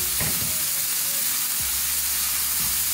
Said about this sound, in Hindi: वेजिटेबल को हमें 2 से 3 मिनट के लिए फ्राई करना है